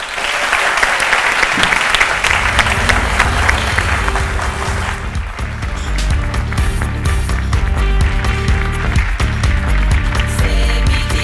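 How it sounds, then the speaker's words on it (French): Loud, sustained applause from a television studio audience welcomes a guest onto a midday show set, with music swelling up beneath the clapping partway through. "On applaudit tout de suite monsieur Koné Ibrahim"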